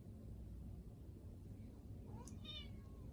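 A pet cat named Mocha gives a short, faint meow near the end of the clip over a low, constant rumbling room background.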